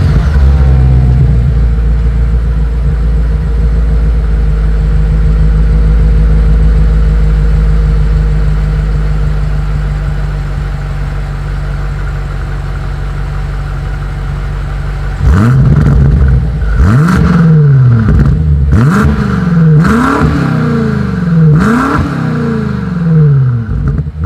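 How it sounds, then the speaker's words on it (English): A 2020 BMW M8 idles with a deep, steady rumble, then its exhaust barks through a series of sharp revs, each rising and falling quickly. "Here is that 2020 BMW M8 exhaust"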